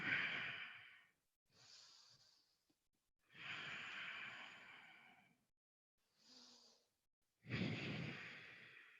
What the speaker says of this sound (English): breathe through it as you hold here for 5 deep, slow breaths